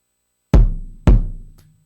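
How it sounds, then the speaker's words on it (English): Unprocessed kick drum captured by its close microphone: two hard, deep thumps about half a second apart, each with a sharp attack and a long ringing decay, loud and isolated. "I'll take this kick mic here, which sounds like this before any of my processing."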